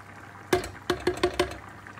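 Mash plops out of a container into a pot in five or six distinct soft wet thuds, close and moderately loud, separated by brief pauses.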